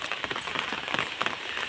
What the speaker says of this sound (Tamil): அப்போல்லாம் மழை பெஞ்சிக்கிட்டு இருக்கு.